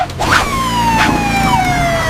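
A fire truck siren from a Hindi 3D animated cartoon rescue story wails loudly and continuously, with a steady falling tone over an engine-like rumble.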